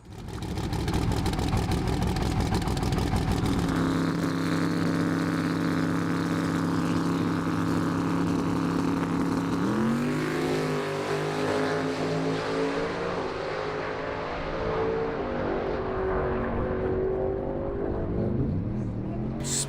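A modified car drives off toward a race track, its engine droning steadily and loud throughout, with pitch shifting as it shifts gears and accelerates.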